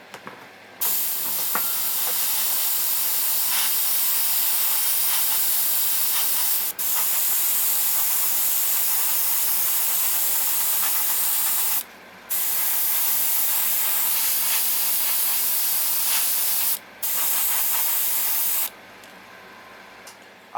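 An airbrush sprays a mix of buff and dark iron paint onto the underside of a 1:350 Klingon K'Tinga battle cruiser model kit, a steady close hiss broken by several short pauses between bursts.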